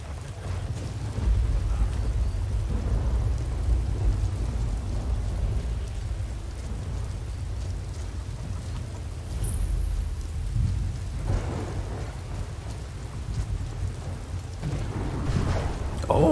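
Thunderstorm ambience from the video game Skyrim: steady rain hiss with low rolling thunder rumbles throughout, swelling near the end, loud and continuous with no talking.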